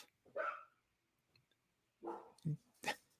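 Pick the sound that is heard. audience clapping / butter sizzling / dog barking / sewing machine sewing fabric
dog barking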